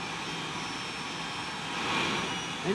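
The American Thunder jet truck runs its jet engine with a broad, steady roar that swells toward the end, heard alone without talk.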